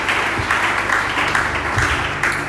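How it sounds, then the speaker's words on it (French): A church congregation at a worship night applauds and cheers for the Lord, a steady wash of clapping with scattered voices throughout. "est-ce qu'on peut acclamer pour le Seigneur?"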